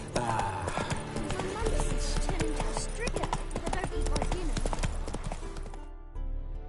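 Horse hooves clip-clop in a rapid, steady rhythm in a video game, loud and close, with voices talking over the hoofbeats and a neigh.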